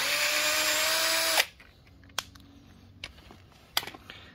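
A power drill unscrewing a screw while fitting a SUR-RON electric pedal kit gives a loud whirring burst that stops abruptly, followed by quiet clicks and light taps.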